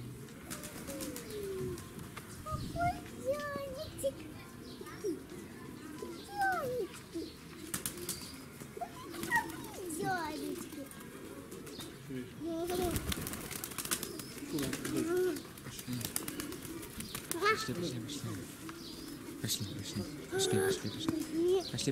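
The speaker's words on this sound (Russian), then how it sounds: "Ну, это маленький голубь." Small pigeon cooing softly among other chirping zoo birds in Nalchik Zoo, repeated calls over steady background chatter, with people talking nearby throughout.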